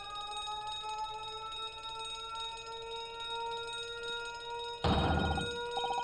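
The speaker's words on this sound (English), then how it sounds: "That's an alarm." Ship's alarm ringing in The Great Ace Attorney video game, a steady sustained electronic tone with bright harmonics, joined near the end by a sudden loud burst of clanging noise, with no talking.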